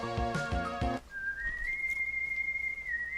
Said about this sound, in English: that whistle.